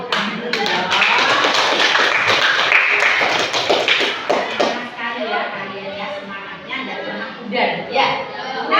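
Classroom applause after student groups present riddles and rhymes, a dense stretch of many hands clapping at once that stays loud, then thins and fades a little toward the end, with voices mixed in underneath.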